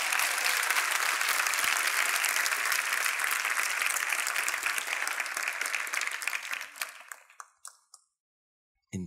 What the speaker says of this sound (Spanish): Dale un aplauso a ese, por favor.